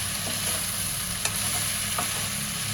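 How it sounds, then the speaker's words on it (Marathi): Dried prawns and brinjal sauté in a pan for pulao, giving a steady, close sizzle with a couple of brief stirring scrapes. "जरा छान आपण परतून घेऊया."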